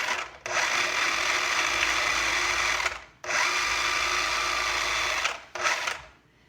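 A food processor pulses cooked white northern beans in two long loud whirring bursts and a short third one, each stopping abruptly, with no talk.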